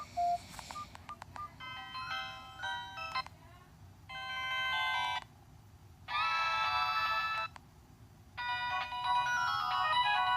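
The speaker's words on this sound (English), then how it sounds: "this Nokia has a limited sound font and the sound font it's not compatible with the ringtone" A Nokia mobile phone plays a ringtone its limited sound font cannot render properly, giving a synthetic, beeping melody in loud bursts separated by short gaps.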